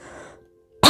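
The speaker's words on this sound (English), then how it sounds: "I'm about to cough" A single short, sharp cough bursts out close and loud right at the end, after a quiet fading tone.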